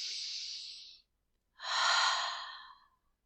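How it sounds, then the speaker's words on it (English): Two slow, deep yoga breaths, one long airy exhale, a short silence, then a fuller breath with a rushing, breathy tone, close to the microphone and with no talking. "in through the nose and out through the mouth."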